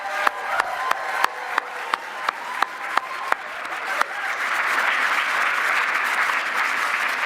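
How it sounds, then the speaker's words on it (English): Rhythmic unison claps open at a closing ceremony, then swell into dense, sustained applause from a large crowd of attendees for the Masquerade costume contestants, loud and continuous to the end. "Please give a round of applause to all of our 2024 Masquerade contestants."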